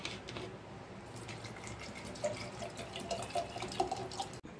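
Drinking water pours into a container over sliced ginger, cucumber and mint leaves, a faint soft splashing trickle that swells slightly toward the end, with no one speaking.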